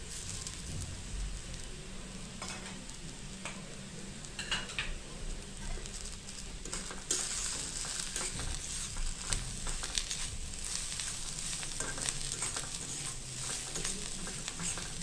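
Spice masala for dried bombil curry sautés in a pan, a steady low sizzle with occasional scraping and stirring clinks, close and fairly quiet throughout with no talking.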